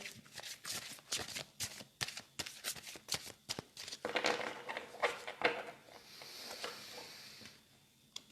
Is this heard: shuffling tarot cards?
yes